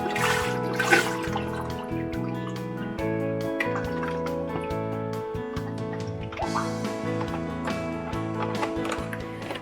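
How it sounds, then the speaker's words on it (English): Vegetable broth poured into a pan, a continuous close trickle and splash of liquid with dripping, gurgling texture, steady and moderately loud with a brief surge partway through, and no voices. "First, we're going to add 4 cups of vegetable broth to our pan."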